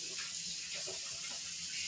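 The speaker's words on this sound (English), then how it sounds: "Let me wash my hands real quick." Water runs steadily from a tap as hands are washed beneath it, a close, continuous hiss and splash with slight fluctuations throughout.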